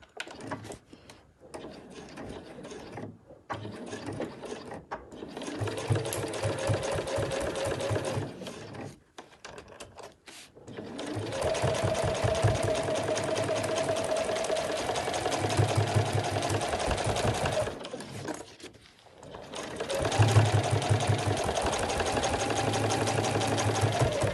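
Sewing machine stitching rows across fabric for a backpack front flap, a fast steady mechanical whirring and needle clatter in long runs, broken by brief pauses, close and loud throughout.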